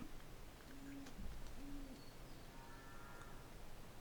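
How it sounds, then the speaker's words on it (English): An owl hoots softly in the distance at a lakeside campsite, two faint low calls about a second apart over a steady outdoor hiss, with no talk. "There was an owl around the area."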